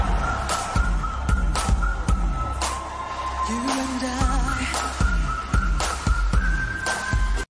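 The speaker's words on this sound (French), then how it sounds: "Un petit sifflotis pour un gimmick qui reste bien en tête." A whistled melody rides over a beat with regular punchy drums and bass, the tune rising and falling in short, catchy phrases.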